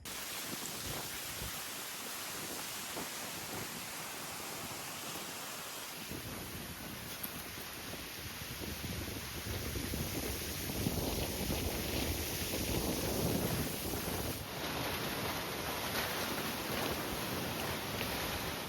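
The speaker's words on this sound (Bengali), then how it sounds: "কি জোরে হাওয়া বইছে" Strong wind blows in a village garden, a loud steady gusting rush with heavy buffeting on the microphone, growing fuller partway through and continuing without speech.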